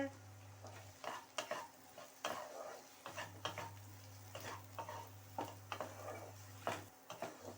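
Spices with turmeric and salt frying in a pan, a soft steady sizzle with repeated scraping strokes of a spoon stirring, close and alone without talk.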